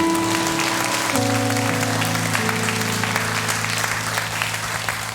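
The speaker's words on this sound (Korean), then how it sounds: "우리 하나님께 영광의 박수 올려드리겠습니다" A church congregation applauds during a Sunday worship service, a steady wash of many hands clapping over sustained organ or keyboard chords that keep playing underneath.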